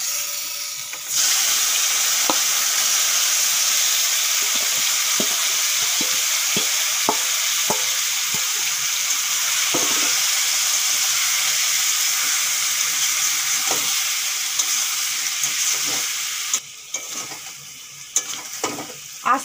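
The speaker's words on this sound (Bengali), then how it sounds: "এখন দিয়ে দেবো মাখিয়ে রাখা সয়াবিন আর আলু।" Soybeans and potatoes hit hot oil with whole spices and set off a loud, steady sizzle that runs for most of the clip, with scattered stirring clinks and scrapes and a quieter tail at the end.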